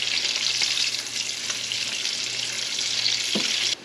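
Broccoli and onions frying in a pan for a cheddar broccoli soup, a close, steady bright sizzle with faint stirring scrapes and a brief clunk near the end, no talking.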